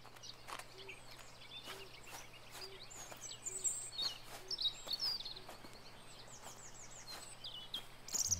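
Birds chirp in the video game Botany Manor, scattered high tweets and trills over a soft ambient background with a low steady hum, moderately distant, with no speech.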